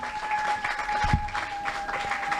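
A church congregation at a CEFC France worship service claps in applause, a steady patter of many hands with a brief low thump partway through and a faint sustained tone in the background.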